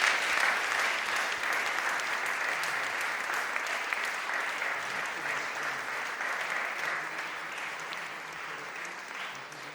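A conference audience applauds warmly and steadily for nearly ten seconds, a dense wash of many hands clapping that fades slightly toward the end, with no talking over it.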